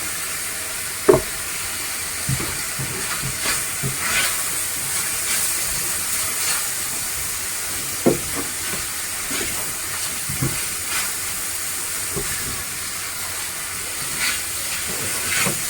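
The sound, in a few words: oil sizzling in a pan while cooking meat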